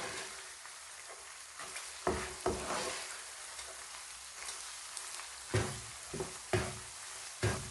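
Keema mater, a curry of minced lamb and peas with red chilli powder, sizzles and fries in a pan while being stirred. A steady hiss is broken by repeated scraping stir strokes at close range.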